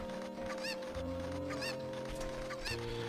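Chickens cluck and squawk in Zelda: Ocarina of Time 3D, several sharp bird calls rising over a steady game music backdrop at moderate volume.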